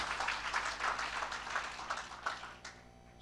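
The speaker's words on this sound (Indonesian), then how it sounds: "Berikan kembali tepuk tanganmu" A church congregation claps steadily at a moderate distance during a worship service, the applause fading slightly toward the end.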